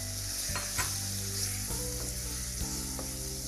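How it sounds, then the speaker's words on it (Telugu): Boneless raw chicken pieces dropped into a pan of frying masala give a steady sizzle with a few soft stirring clacks and low hum, no talking. "ఈ ఫ్రై అవుతున్న మసాలాలో బోన్లెస్ చికెన్ పీసెస్ వేద్దాం."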